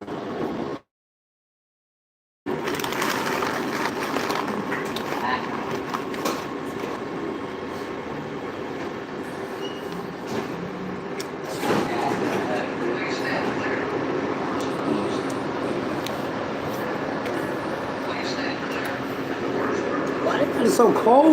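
Riding aboard a cold train, with a steady rumbling and rattling carriage noise throughout, a brief dropout near the start, and someone talking over the ride.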